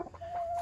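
A lone chicken gives a brief, quiet cluck in a farm setting, heard alone at close range.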